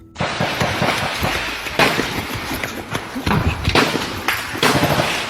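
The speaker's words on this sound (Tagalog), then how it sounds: "kasabay ng mga tunog ng tila putukan ng baril" Rapid gunfire-like bangs and cracks ring out on a mountain hiking trail, a busy run of sharp bursts with scattered louder reports across the whole stretch, heard close and loud amid rustling movement.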